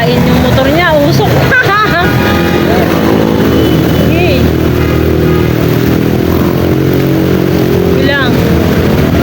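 A boat's motor runs loud and continuous throughout, droning with shifting pitch while people talk over it.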